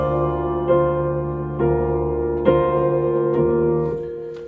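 A piano passage moved up an octave rings out as a few sustained chords, each struck about once a second and left to decay, clear and close with no talking.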